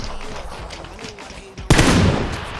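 Gunfire in PUBG bursts out as a sudden loud volley near the end, following a quieter stretch with some faint background sounds.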